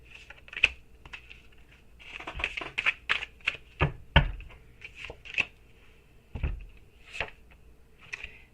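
Tarot cards being shuffled and tapped in irregular bursts, with sharp clicks and soft thumps close by, no voices.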